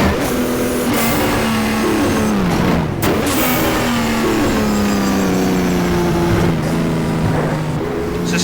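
A BMW M1 race car engine in the rFactor racing sim roars loudly and continuously, its pitch climbing and dropping through gear shifts as the car accelerates and brakes.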